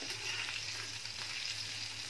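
Baga fish frying on a flat iron tawa, giving an even, continuous sizzle over a low steady hum, moderately quiet and close, with no one speaking.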